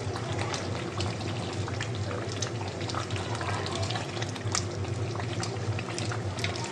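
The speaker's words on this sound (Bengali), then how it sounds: "কষাই নিব এভাবে বেশি সময় নিয়ে কষাইতে হবে" Duck meat cooked with coconut is slowly sautéed in a pan, giving a steady, dense hiss of cooking with small crackles and pops throughout, close and even in loudness, with no talking.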